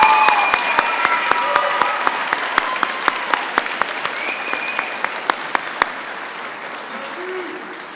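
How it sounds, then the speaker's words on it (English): A nursing school commencement ceremony for graduates fills with applause, a dense crowd clapping with some sharper nearby claps, fading toward the end as voices murmur underneath. "One more round of applause, please."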